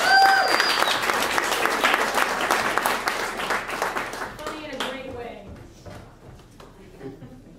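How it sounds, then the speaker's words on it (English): At a story slam, a room audience bursts into close, lively applause with loose claps and some cheering, then the clapping thins and fades away over several seconds into scattered last claps. "Give him a round of applause."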